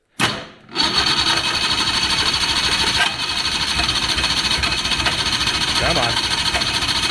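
A 1987 Pantera engine cranks, catches and settles into a loud, rough, steady idle close by after a short burst at the start, with someone briefly speaking.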